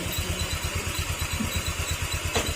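Honda Click 125 motorcycle engine idling while it warms up: a steady, rapid low putter close by, unbroken throughout, with a brief sharper rattle near the end.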